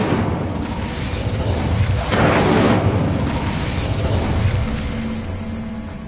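The Incendio fire spell in a magic video game bursts out as a loud, roaring whoosh of flame that swells and then fades over a continuous rumbling background.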